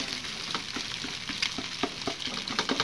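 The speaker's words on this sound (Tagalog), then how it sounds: "Gisa na tayo ng bawang at sibuyas kasama na yung ating itlog." Garlic, onion and egg sauté in a hot pan for cabbage fried rice, a steady close sizzle broken by regular soft scraping stirs, with no talking.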